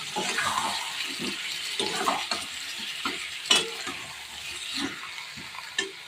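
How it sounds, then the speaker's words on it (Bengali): Meat is stir-fried (kosha) in spiced oil in a pan, with repeated scraping stirs and soft sizzling, close and moderately loud, in irregular strokes. "দিয়ে দিচ্ছি মশলা মাখানোর তেলটা। এবার কষে কষে করবো।"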